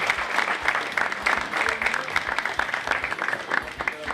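Applause rises from a comedy show audience, a dense patter of many hands clapping at a moderate level, with faint crowd murmur and scattered louder claps under the noise.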